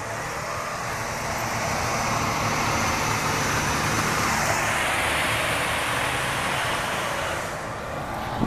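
A Walmart truck drives past on a road near a soon-to-open store, a loud, steady broadband roar of engine and tires that swells and holds close for several seconds before easing off, with no talk.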